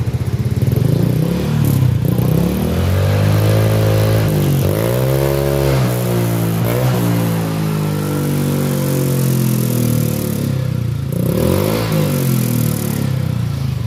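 A Honda Vario 150 scooter engine, due for an air filter change, runs loud and close, its pitch swelling and dropping through several revs before settling into a rough idle.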